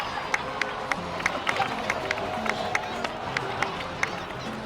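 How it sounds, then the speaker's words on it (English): Crowd clapping and cheering at a celebration in the video game Genshin Impact, with a scatter of sharp claps over a steady murmur of voices, at moderate distance. "please give another round of applause for them"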